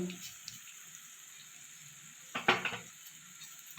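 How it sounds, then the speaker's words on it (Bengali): Elephant foot yam spice paste with turmeric and salt sizzling steadily in a pan, broken by a few short scraping stir strokes near the end, close and fairly quiet, with no talking. "মশলাটা এবার একটু নাড়াচাড়া করে সামান্য একটু জল দিয়ে কষিয়ে"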